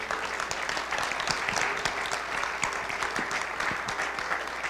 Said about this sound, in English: Let's give one more round of applause to our presenters today